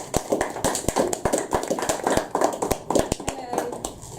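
An audience applauds a comedian at a stand-up comedy show, a burst of dense, lively clapping from a small crowd heard close, with a few voices mixed in.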